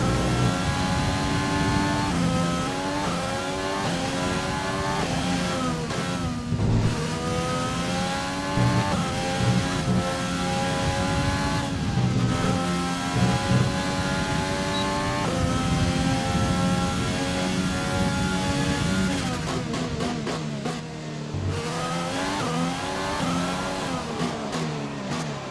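Formula 1 car lapping the Mexico circuit in the F1 2020 racing game, its high engine note rising and falling continuously through gear changes and corners, loud and steady with no talk.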